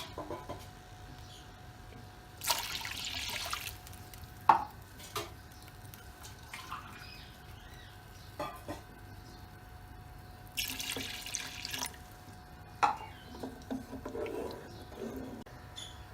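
Water splashes and trickles in short bursts as it is poured into a pot, a couple of longer pours standing out against a quiet room with scattered drips and clinks.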